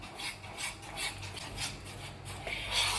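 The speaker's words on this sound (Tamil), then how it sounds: "எக்கு போட்டு நல்லா மிக்ஸ் பண்ணிக்கலாம் நூட்டலை ஸ்ப்ரெட் கூட" A spoon scrapes and stirs Nutella spread and egg together in a bowl for cookie dough, making repeated rasping strokes in a soft, close, rhythmic pattern with no talking.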